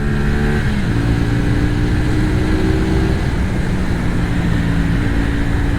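A 2024 CFMOTO 450 SR-S motorcycle on the move, its engine note shifting between steady gears as it rides, loud and continuous with no talking.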